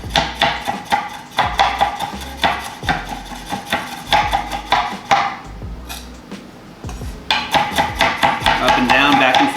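A knife chops on a cutting board in quick, steady up-and-down strokes, loud and close, with a brief pause midway. The cutting is for a tomato and cucumber salad with shrimp.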